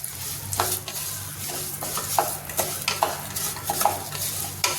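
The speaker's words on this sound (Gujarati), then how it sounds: "આપણે ધીમા ગેસે ફાડાને શેકી લેવાના છે" Cracked wheat (fada) roasts in a pan over a low flame while being stirred, giving a steady dry scraping and soft rustling sizzle with rhythmic strokes that stay close and moderately loud.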